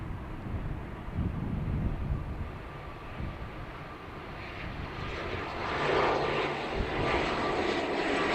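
A heavy airliner departing Dublin Airport, a broad roaring jet engine rumble that swells louder toward the end, heard from a distance outdoors with some wind noise.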